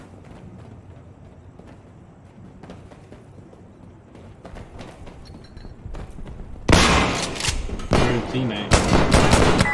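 Sharp, loud bursts of automatic gunfire break out in an Insurgency Sandstorm co-op match after a quieter stretch with a brief spoken word, the shots coming in rapid volleys near the end.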